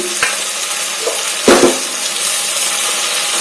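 Ginger, garlic, masala and coconut frying in a pan, a steady close sizzle with a couple of brief stirring scrapes partway through and no talking.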